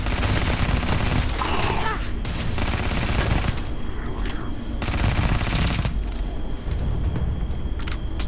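Dense, sustained volleys of gunfire in the video game Starfield, rapid bursts following one another with barely a pause, loud and close, while a voice comes through now and then.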